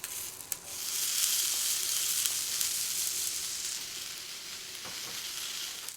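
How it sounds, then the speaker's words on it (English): Steady, loud sizzling of tomato halves frying in oil in a pan at moderate heat, a continuous crackling hiss with a few brief clinks, no voices. "Heat a frying pan with some oil to a moderate heat and add the tomato halves one by one."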